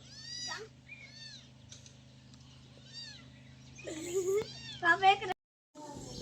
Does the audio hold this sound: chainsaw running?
no